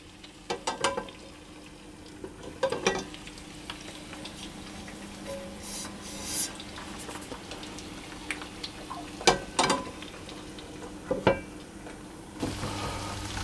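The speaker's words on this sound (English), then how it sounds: "cover the pan and I'm going to allow those potatoes to cook gently for 10 minutes" Potatoes gently cooking in oil in a covered pan for a Spanish tortilla, a soft, steady low sizzle throughout, broken by occasional clicks and knocks of the lid and pan.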